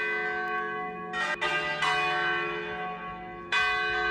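Church bells ring out near a clifftop path, sustained resonant tolls with fresh strikes every second or two, fairly close and steady, with no talk.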